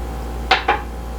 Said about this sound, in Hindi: इन्हें अब हम अच्छे से मिक्स कर लेंगे।